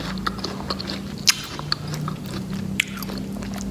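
Raw rattan shoot, eaten fresh as a vegetable, is bitten and chewed close up, with a few sharp crunchy bites over a steady soft chewing sound.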